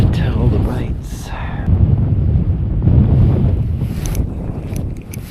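Extreme wind of about 50 km/h buffeting the microphone while ice fishing alone for walleye and perch, a loud continuous rumbling roar with gusts, and someone talking over it.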